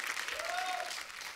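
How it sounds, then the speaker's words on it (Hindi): Studio audience applause on a comedy talk show, a brief, fairly quiet burst of clapping with a faint voice over it. "जोरदार तालियां सारा के लिए।"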